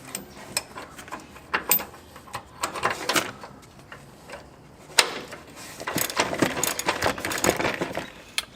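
Wrench work snugging 19 mm bolts on a Lexus front suspension upper control arm: irregular metallic clicks and clanks, scattered sparse at first then a denser clattering burst toward the end, close by with no talk.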